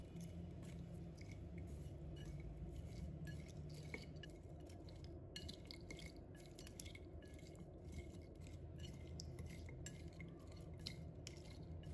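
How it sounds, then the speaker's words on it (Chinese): Seasoned chicken feet being stirred in a bowl with the poured-in sauce, a steady wet mixing and faint clinking of utensil against the bowl, continuous and close over a constant background hum. "先把它搅拌均匀。"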